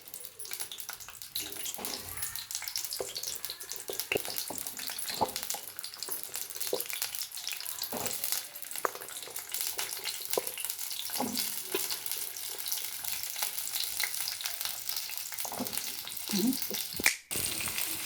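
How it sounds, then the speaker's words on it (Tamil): Small shallots sautéing in hot oil for a Tamil onion thokku, a steady close sizzle with scattered sharp pops and crackles and occasional stirring scrapes throughout, with no talk. "எண்ணெய் காஞ்சனே வெங்காயத்தை வதக்கலாம்"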